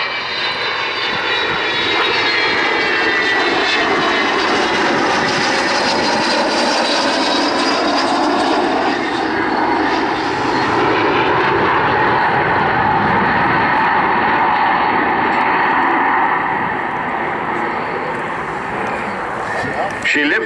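An Avro Vulcan XH558 jet bomber flies over the Cosford airshow, a loud continuous roar that swells and slowly shifts in pitch for the whole stretch, while a commentator's voice carries over the engine noise.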